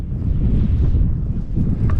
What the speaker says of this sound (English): Wind's blowing here a little bit.